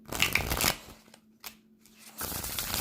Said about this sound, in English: I personally like to side shuffle like this